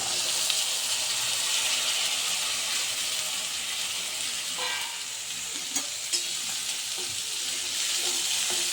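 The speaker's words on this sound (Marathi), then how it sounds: "ही चांगली परतून घ्यायची" Mixed vegetables with turmeric and red chilli powder sauté in a pan, a steady close sizzle of hot oil broken by occasional spatula scrapes and clicks against the pan, with no one speaking.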